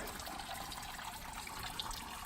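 Water runs and drips off the antlers of a moose sculpture fountain at a wildlife art museum, a soft continuous trickle and patter heard faintly and steadily.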